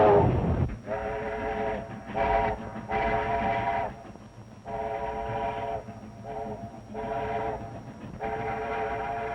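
Steam train whistle from an old mystery thriller film, sounding in a series of loud harmonic blasts of varying length over a steady rumble of rolling rail cars, with no talk.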